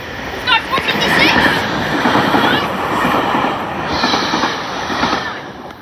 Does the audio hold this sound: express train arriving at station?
yes